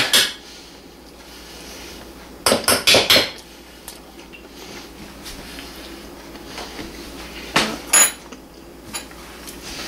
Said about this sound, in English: you take something like this spoon, this is just a little teaspoon, and you're going to want to hollow the potato out into a mixing bowl